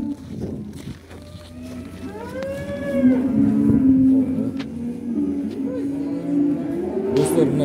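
A big one-year-old purebred Altai Kyrgyz heifer lows in a few drawn-out, wavering moos over steady farmyard background noise, with some voices faintly present.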